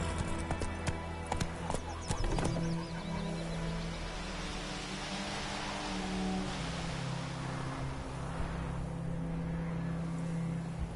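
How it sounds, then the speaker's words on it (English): A horse's hooves clip-clop in a steady, fairly loud rhythm in The Witcher video game, with a short whinny-like sound near the start and background game ambience. "Not so fast, Roach. Giddy up."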